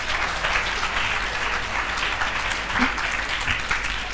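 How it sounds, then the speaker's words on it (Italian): Audience applause at a school talk about Parliament, a steady dense wash of clapping from a roomful of listeners, moderately loud and sustained throughout with no clear voices on top. "Un applauso innanzitutto e buon lavoro."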